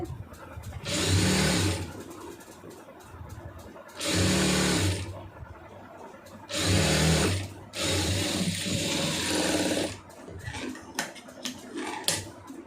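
A sewing machine stitches a churidar pant in four loud, close bursts of rapid whirring, separated by short pauses with faint background noise.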